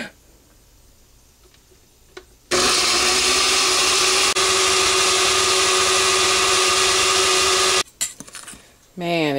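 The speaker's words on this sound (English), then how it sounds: "I'm gonna just blend them up" Blender grinding dried tomatoes into powder: after a quiet stretch with faint sounds, a loud steady motor whine kicks in and runs for about five seconds, then cuts off abruptly, followed by brief rattles.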